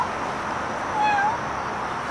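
A tailless cat gives one short, high meow partway through, against a steady outdoor background hiss.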